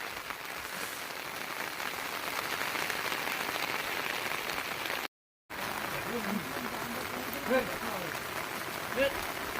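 Heavy monsoon rain pours steadily over a Konkan farm, a dense unbroken hiss of drops filling the air, with a brief dropout midway and a few faint voices heard near the end.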